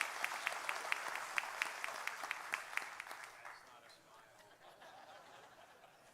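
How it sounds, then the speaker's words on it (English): Applause from an audience at a sheriff's office awards ceremony, sharp clapping at first that thins and fades into a softer patter, with a few light laughs mixed in. "One more round of applause."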